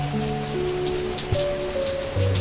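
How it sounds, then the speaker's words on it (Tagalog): Heavy rain pours down in a steady, dense hiss that never lets up, with soft tonal notes sounding faintly beneath it. "Lalakas pa yata ang ulan."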